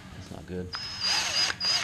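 A power drill bores a hole into a DW735 thickness planer, its motor whining in short, close bursts with rising and falling pitch, while a person talks over it.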